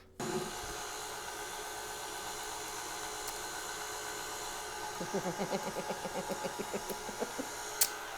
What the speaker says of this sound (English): we're going to let the mixer do the heavy work